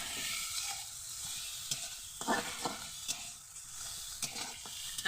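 Spice paste sizzles steadily in a pan while being stirred, with broadband frying hiss throughout and several sharp scraping clicks of the spoon at irregular intervals, close and alone with no voices.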